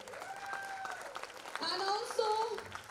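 Faint audience applause at an award ceremony sits under a voice that speaks and sings over it, with the clapping only a soft background patter.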